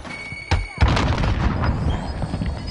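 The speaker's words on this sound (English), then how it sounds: "Grenade out!" A grenade blows up in the Warzone video game with a sharp crack followed by a deep booming blast, then a rumbling, crackling tail of debris and gunfire-like pops, loud and close.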